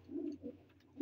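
A 35-year-old high-flyer pigeon cooing softly in Sharjah heat, two or three low quiet coos in a short burst with a gap between them.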